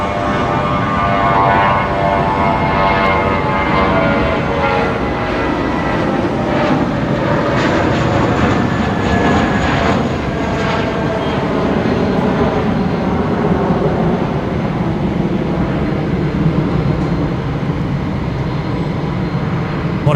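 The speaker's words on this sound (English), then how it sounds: "Jetstar 635, just about to rotate here, heading to Avalon down in Melbourne tonight." A Jetstar passenger jet taking off from Brisbane Airport, a loud, steady roar of jet engines at full thrust with a broad rushing hiss and a faint whine, sustained throughout and heard without talk.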